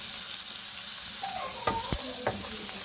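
Garlic, onion and fried beef stir-fry in a pan with a constant bright sizzle, and a few sharp scrapes and knocks from stirring come in partway through, close and with no voices.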